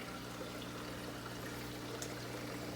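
Circulation pumps keep water moving in a 90 gallon reef aquarium, a faint, steady wash of flowing and trickling water that runs evenly throughout with no voices.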